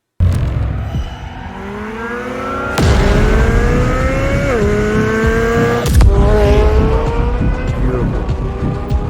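A 2023 Chevrolet Corvette C8 Z06 engine revving hard, its pitch climbing steadily through the gears with sharp breaks at each upshift, loud and close and run at full throttle without any talking over it.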